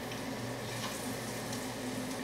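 Beer-battered redfish planks frying in hot oil, giving a steady, soft sizzle and gentle bubbling that stays even and fairly quiet throughout, with no one talking.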